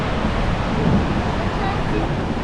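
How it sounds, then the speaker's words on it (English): Strong wind buffets the top of a tall coastal lighthouse, making a loud, continuous rumbling gust noise against the microphone with no break. "That's so windy."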